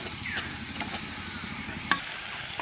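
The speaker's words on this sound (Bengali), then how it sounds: "তো দিয়ে আগে মশলাটা কিন্তু খুব ভালো করে কষিয়ে নেব।" Ground spice paste of ginger, garlic, chili, cumin and garam masala frying in a pan, a steady close hiss with occasional soft clicks of stirring, no voices.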